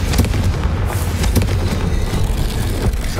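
Confringo fire spell exploding in the game Hogwarts Legacy, a loud, dense rumbling blast with crackling bursts that fills the whole moment without speech.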